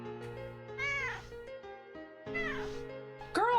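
A cat meows three times in drawn-out, rising and falling cries spaced across a few seconds, close and fairly loud, with steady background hum and music underneath.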